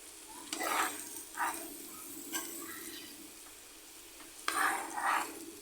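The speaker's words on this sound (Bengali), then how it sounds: "আবার ভালো করে মিশিয়ে নিচ্ছি" Potato and green beans being stirred with cumin powder in a pan, giving soft scraping strokes in a few bursts over a quiet background sizzle, close and fairly faint.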